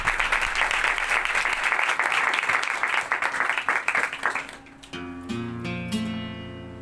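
Loud, dense applause from a church congregation during a sermon for several seconds, fading as sustained musical tones take over near the end.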